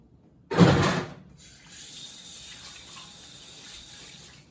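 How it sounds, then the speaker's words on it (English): Hands washed under a running kitchen tap, a loud close splash of water for about half a second, then the flow continuing more softly in the background, with no talking. "I'm gonna wash my hands."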